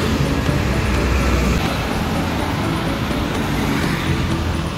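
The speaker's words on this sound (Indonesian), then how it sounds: "Dan ini ada bus Rengganis dengan tujuan Kuningan Cirebon yang berangkat start dari Lembang juga ini." Bus pulling out of a terminal in Lembang bound for Kuningan Cirebon, a continuous loud engine rumble blended with dense roadway traffic noise, steady throughout with no clear change in pitch, and no speech.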